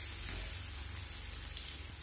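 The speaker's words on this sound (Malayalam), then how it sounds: "ഇതിൻ്റെ അകത്തുള്ള വാട്ടർ കണ്ടന്റ് കംപ്ലീറ്റ് ആയിട്ട് പോണവരെ അത് നന്നായിട്ട് വറുത്തെടുക്കണം." Ginger and garlic fry in oil for a fish pickle, making a soft, even hiss of sizzling with no pauses and a faint low rumble underneath.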